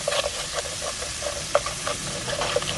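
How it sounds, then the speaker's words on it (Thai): Blue swimmer crab is stir-fried in a pot, giving a soft, steady sizzle with light scraping and stirring clatter and a few sharper clicks, moderately close and with no talking. "ขั้นตอนนี้เราก็จะผัดปูไปเรื่อยๆนะคะจนกว่าเนื้อปูจะสุกค่ะ"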